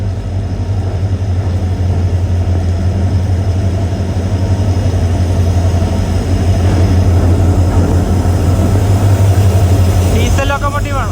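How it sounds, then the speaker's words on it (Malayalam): A passenger train with a diesel locomotive arriving at a station on the Mysuru to Chamarajanagar line, a steady loud low engine rumble close by with a brief rattling clatter near the end. "ഡീസൽ ലോക്കോമോട്ടീവ് ആണ്."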